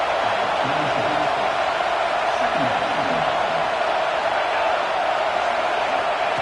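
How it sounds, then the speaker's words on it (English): Stadium crowd noise from the College Football 26 video game during an LSU season game: a steady, dense roar of many voices holding at constant loudness, with a commentator's voice faintly audible underneath. "This crowd bringing the energy and noise early."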